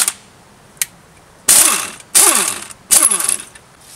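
A ratchet loosens the large top nut on a compressed Fiat Punto strut spring, with two faint clicks followed by three loud, close bursts of rapid ratcheting.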